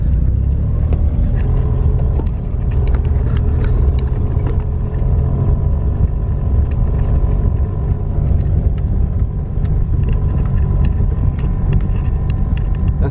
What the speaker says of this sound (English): Nice ride on the muddy lane.